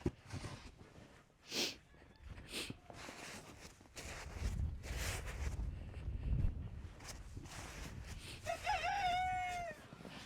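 Silkie and Polish chickens in deep snow after a winter storm are heard through muffled shuffling and footsteps, then a faint rooster crow near the end.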